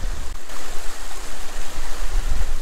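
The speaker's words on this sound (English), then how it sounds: "I'm going to go up and take a picture of that waterfall" Steady broadband rush of a waterfall along Eagle Creek Trail in Oregon, close and continuous with no voices.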